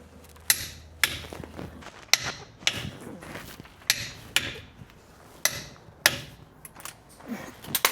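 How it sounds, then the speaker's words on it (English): Torque wrench clicks sharply about a dozen times at regular intervals while tightening Jeep Gladiator or Wrangler JT/JL front Adams driveshaft bolts to 88 foot-pounds, each click close and distinct over faint ratcheting. "I'm going to torque these down to 88 foot-pounds"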